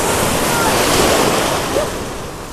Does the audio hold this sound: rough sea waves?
yes